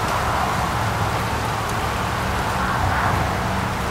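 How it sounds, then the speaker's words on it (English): Rain begins to fall outdoors on a partly sunny day, a dense, even hiss of drops on surfaces that holds steady for a few seconds with faint low rumble beneath and no talking. "It's starting to rain again."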